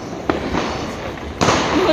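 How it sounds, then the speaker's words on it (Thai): Loud firecrackers burst on a busy street in Erfurt, Germany: two sharp, close bangs stand out over a crowded background murmur of people. "เสียงประทัดดังมากนะคะ"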